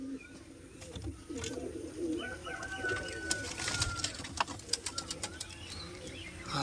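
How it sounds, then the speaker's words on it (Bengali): Big-size Kalasabuj pigeons coo softly in a quiet setting, with low murmuring calls, a few wing flaps and light rustling throughout. "এটা হচ্ছে মাদা পায়রা"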